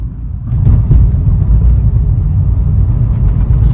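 Heavy long-weekend traffic on the Mumbai Pune Expressway toward Khalapur produces a loud, close, continuous low engine rumble with passing vehicles and a brief hiss like an air brake.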